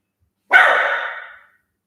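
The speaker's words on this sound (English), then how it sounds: "Don't mind my dog." A pet dog lets out a single sharp, loud bark or yelp close by indoors, trailing off within a second, with no talking over it.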